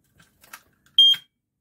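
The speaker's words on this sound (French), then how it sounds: "Voilà, détecteur de fumée." A smoke detector sounds one short, loud, piercing test beep after a few faint knocks and handling noises, then silence.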